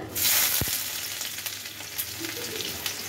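Chopped onion frying in hot oil in a home kitchen, a steady close sizzle with a sharp burst as the onion hits the pan, then a continuous crackling hiss, no talking.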